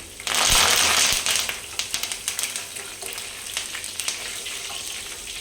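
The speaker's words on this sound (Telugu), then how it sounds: "అదే ఆయిల్లో ఇప్పుడు సన్నగా కట్ చేసుకున్న ఒక 2 పచ్చిమిర్చి, కొంచెం కరివేపాకు" Sliced green chillies and curry leaves hit hot oil with a loud burst of sizzling, then settle into a crackling, popping fry that keeps spluttering steadily up close.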